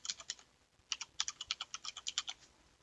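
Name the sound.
typing a server name on a computer keyboard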